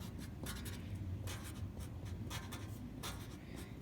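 Pencil scratching across watercolor paper while labels are written, a steady close scritching with short bursts of strokes and brief pauses, no voices.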